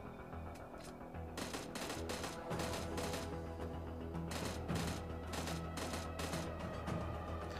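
Rapid gunfire in the PUBG Mobile game's winter mode, bursts of sharp shots in quick succession with short gaps, loud and dense throughout.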